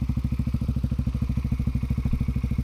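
A Honda CBR150R CBU motorcycle engine idling close up, a steady rapid, throbbing pulse with a loud, even rhythm and no voices.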